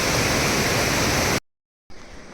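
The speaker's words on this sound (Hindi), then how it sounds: "मेरे पीछे ये झरना" A waterfall beside the Valley of Flowers trail roars as loud, steady rushing water close by, briefly cut out, then returning fainter.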